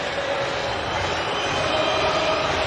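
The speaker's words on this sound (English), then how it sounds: "Crowd getting restless now." Restless stadium crowd at a Manchester United vs Liverpool FA Cup match, heard as a constant, dense roar of many voices that holds steady throughout with no clear breaks.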